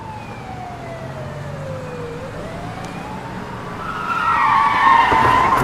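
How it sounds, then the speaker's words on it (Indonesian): An ambulance siren wails in a single sweeping tone that dips and then climbs again, heard from inside a car, with road noise growing louder near the end. "Masa nggak dengar suara ambulan?"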